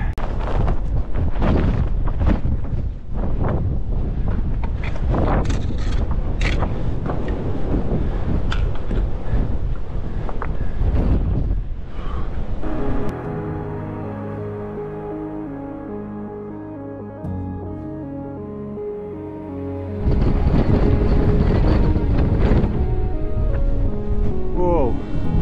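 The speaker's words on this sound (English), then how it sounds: "And we're on a very windy summit" Gusty wind on the summit of Beinn Liath Mhor in April buffets the microphone in heavy broadband rumbles, easing briefly in the middle under a low droning tone before roaring back.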